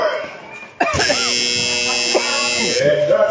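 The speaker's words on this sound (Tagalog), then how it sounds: "And that's the buzzer." A loud end-of-third-quarter buzzer at an under-16 basketball game sounds as one sustained electronic blare of about two seconds, with the commentator and crowd noise around it.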